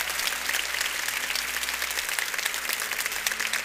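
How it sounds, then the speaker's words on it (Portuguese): A church congregation claps for the people at the altar, a dense, sustained wash of applause from a large crowd that holds steady throughout. "Eu quero pedir mais uma vez um forte aplauso a todos aqueles que estão aqui no altar."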